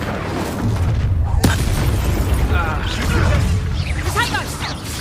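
A fiery Incendio spell blast in the video game Hogwarts Legacy, a sharp boom with a crackling burst followed by a rumbling, roaring tail as game sounds and voices carry on around it.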